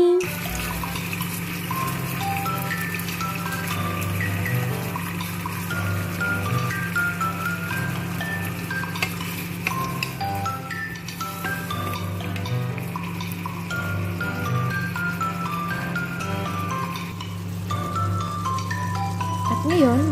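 Coconut milk pouring steadily into a cooking pot for ginataang dorada with pechay, a continuous liquid wash with no pauses, heard up close under a constant low hum and faint kitchen clatter.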